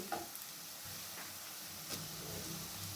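Chopped tomato lands in a pan of softened fried onions, giving a steady soft sizzle and hiss with light stirring scrapes, quiet and close, with no talk.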